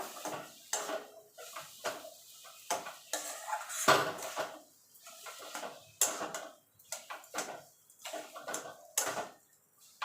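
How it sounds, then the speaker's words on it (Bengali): A spoon stirring palm-pulp pitha filling in a metal pan over a gas flame: rhythmic, close scraping and clinking strokes repeating steadily throughout. "এটাকে আমি মিনিট পাঁচে একটুখানি নাড়াচাড়া করে রান্না করে নেব"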